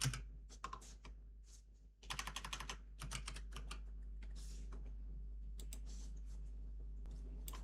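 Keys clatter on a computer keyboard as an IP address is typed, brief bursts of clicks and pauses, then steadier rapid keystrokes, close and clear over a low steady hum, with no talking.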